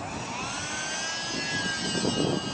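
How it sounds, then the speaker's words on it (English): A small bush plane built for short takeoff and landing drones in flight, its engine holding a steady whining tone that stays loud and close throughout. "It's a bush plane, so it's designed for short takeoff and landing."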